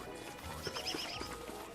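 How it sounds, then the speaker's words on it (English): Beefalo in the Don't Starve video game call out as they wander through camp, a few snorting, whinnying grunts with soft hoof-like clops over a quiet game backdrop. "the Beefalo are just going to wander through your camp all day long"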